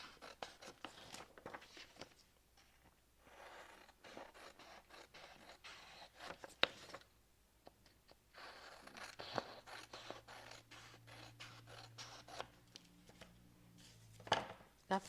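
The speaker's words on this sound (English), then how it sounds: "I'm just cutting off the borders." Scissors trim the borders off paper for a junk journal, producing faint, intermittent close-up snips and scraping cuts in irregular bursts over a quiet background.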